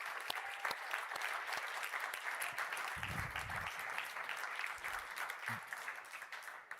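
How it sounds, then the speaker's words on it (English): An audience at a startup pitch competition's grand finale in Paris applauds steadily, a dense, even wash of many clapping hands that sounds somewhat distant and fairly quiet, with no talk over it. "Give all of the startups a huge round of applause, please."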